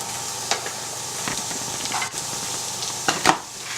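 Garlic and onion sauté in a hot pan, giving a steady close sizzle broken by several scraping stirs and utensil knocks, with no one talking.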